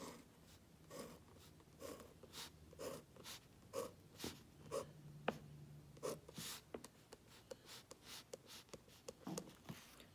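Pencil strokes on workbook paper, a run of short scratchy swipes in an uneven rhythm as lines are drawn one after another, close up and fairly quiet.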